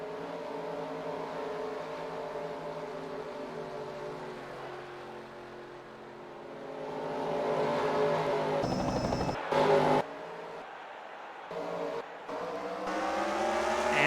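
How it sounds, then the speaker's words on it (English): Race cars idle and rev as their engines start for a heat at Volusia, a loud, steady drone of several engines that builds, with sharp bursts and brief dropouts near the end. "the call for group number 2 to start the engines"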